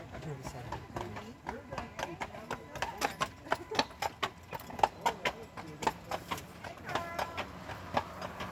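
Horses pulling a tour carriage up one of the steepest hills on Mackinac Island clip-clop in a steady rhythmic beat of sharp, close hoof strikes, with a voice speaking over them.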